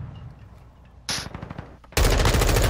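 Gunfire in an online shooter video game: a sharp blast followed by a rapid stutter of shots, then a louder sustained burst of firing, close and harsh.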